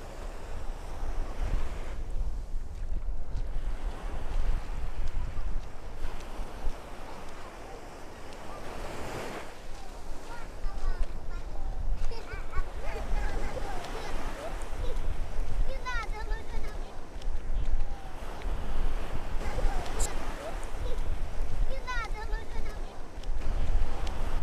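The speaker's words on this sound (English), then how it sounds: "The wind has picked up." Stiff southeast wind at a South Florida beach in Sunny Isles, a continuous gusting rumble buffeting the microphone over the steady wash of surf, with a voice faintly present in places.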